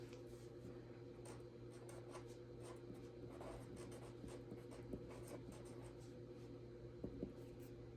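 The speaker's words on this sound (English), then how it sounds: "So I'm going to do intentions first. So let's write that down." A pen scratches softly on paper while writing by hand in a paper planner, a quiet, close, continuous scribble with faint strokes and taps.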